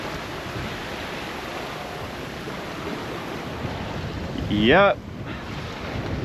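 Strong wind roars across the microphone while waves wash around a small sailboat on an offshore passage, a steady broadband rush with a brief tonal squeal near the end and a short spoken word.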